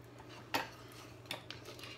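Wooden spoon stirring sugar into applesauce in a bowl, a few soft scraping knocks against the side, one sharper clack followed by lighter taps, close and quiet with no talk.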